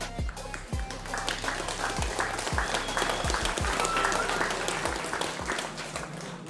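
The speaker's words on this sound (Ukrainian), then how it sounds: "Зустрінемо його в ринзі аплодисментами" Crowd applause in a bare-knuckle fighting arena as a fighter enters the ring, sustained clapping from many people, with low booming thumps from music or the hall repeating underneath.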